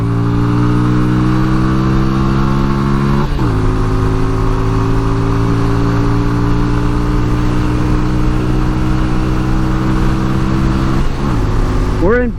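A 1988 Yamaha Virago 250 motorcycle engine drones loud and close as it pulls toward top speed, its pitch climbing steadily and dropping briefly at two gear shifts.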